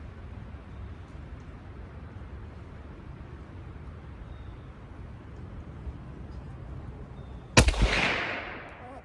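A Remington No. 5 rolling block military rifle chambered in 7mm Mauser fires a single sharp, loud shot near the end after a long stretch of steady outdoor background noise, its report decaying quickly.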